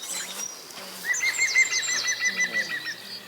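Several birds chirp and trill in a dawn chorus on Troopers Hill, Bristol, in quick repeated phrases, fairly close and clear, with a faint low hum underneath.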